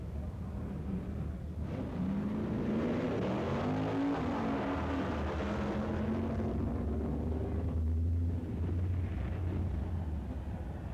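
Bill Lawton's Ford Mustang drag racer at the 1965 Winternationals, a loud sustained engine roar with a rising whine as the run builds, heavy low rumble throughout and a slight fade before a second surge.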